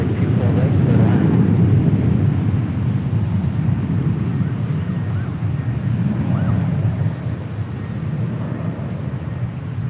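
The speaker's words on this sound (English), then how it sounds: "the Alaska A321 doing laps at the end of 24 left" An Alaska Airlines A321 at LAX runway 24 left produces a broad, steady jet roar that fades slightly over ten seconds, heard at a distance and mixed with wind buffeting the microphone.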